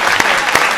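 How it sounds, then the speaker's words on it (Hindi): A brief burst of audience clapping at a Hindi comic poetry gathering, sustained and fairly loud for its short length, with a couple of sharper claps standing out. "तालियां बजा करके माहौल दे दीजिए"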